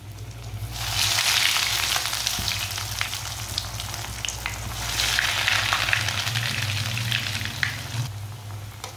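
Bread and potato snacks dropped into very hot oil, bursting into a loud, dense sizzle that crackles steadily for several seconds close by and then eases off slightly, with no talking.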